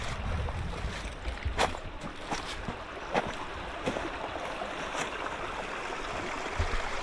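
A scenic creek flows steadily, a continuous broadband rush of water with small splashes and clicks scattered throughout.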